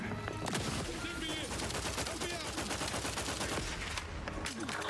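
Gunfire in the video game Outer Worlds 2, dense rapid bursts of automatic shots crackling continuously over a busy battle mix, with game voices mixed in.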